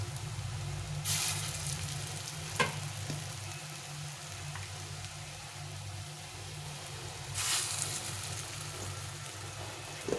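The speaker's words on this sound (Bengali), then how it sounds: "একটু বড়াটা ভেজে নিই" Ridge gourd and lentil fritters (bora) fry in hot oil, giving a steady close hiss with a couple of brief louder bursts of sizzle, no voices.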